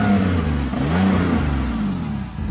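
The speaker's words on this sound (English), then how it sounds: "rev her up" A cheap Honda Civic's engine revs hard, a loud, close, sustained mid-pitched roar rising and falling slightly in pitch over a couple of seconds, with no voices.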